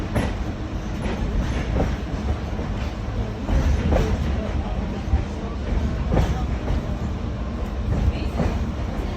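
A Reading and Northern passenger train rolls onto the Nesquehoning Bridge over the Lehigh River behind F units, with steady rumbling and rhythmic clickety-clack wheel beats over rail joints throughout.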